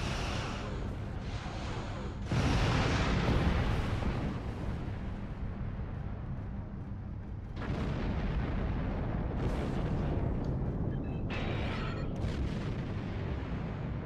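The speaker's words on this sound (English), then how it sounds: "I'm firing my laser! And my photon torpedoes." Star Trek Online starship combat with lasers and photon torpedoes firing: heavy booming blasts and sustained rumbling bursts roll in waves, loud and dense, with no voices over them.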